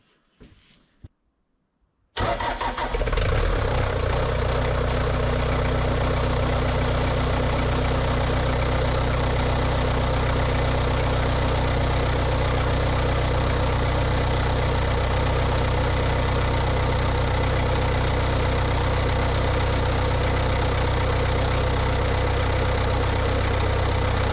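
A Bobcat 751 skid-steer's engine catches after a short quiet moment and settles into a loud, steady idle, a continuous close drone with a rough, knocking edge.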